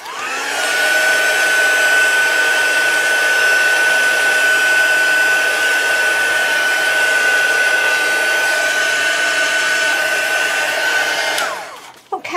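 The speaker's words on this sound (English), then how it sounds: "let's put my heat gun on and dry off that colour" A heat gun blows steadily to dry paint on mixed media journal tags, a loud continuous whir with a faint high whine that runs for about eleven seconds before switching off abruptly at the end.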